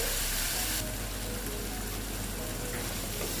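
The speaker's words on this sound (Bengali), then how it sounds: "দেখো কষিয়ে নিচ্ছি ভালো মতন" Chopped ridge gourd and spices sauté in oil, giving a dense, even hiss and crackle that holds steady throughout, close to the pan and without talk.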